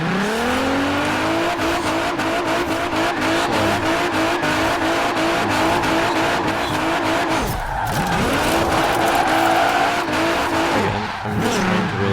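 Car drifting in Forza Horizon 4, a custom drift car warming up before a drift zone, with a constant loud engine roar, rising revs and sustained tire squeal throughout, briefly dipping near the middle before surging again.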